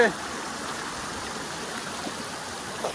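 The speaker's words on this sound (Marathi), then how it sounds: "आता सगळीकडनं आता पाणी वाहत येते ना, त्यामुळे अजून भारी वाटते नाही का" Water running down a small hidden hillside waterfall near the Panvel highway in Badlapur makes a steady, even rushing wash close by, with no clear speech over it.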